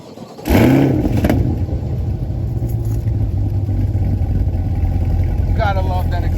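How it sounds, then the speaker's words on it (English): A 2020 Chevrolet Corvette Stingray engine fires up with a quick loud rev, then settles into a deep, throaty exhaust rumble at idle, close by. "Gotta love that exhaust note."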